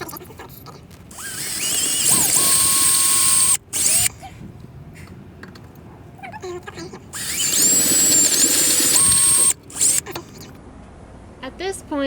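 A power drill whines up in two long bursts, close and loud, drilling out holes for 5/16 pins on an RV slide-out, with short pauses and some handling noise between runs, under occasional talk.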